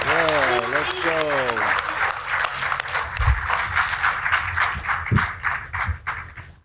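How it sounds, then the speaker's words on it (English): Loud applause and clapping from a press conference audience greeting heavyweight boxer Alexander Usyk, sustained throughout with a voice speaking over the start. "Give him a loud applause."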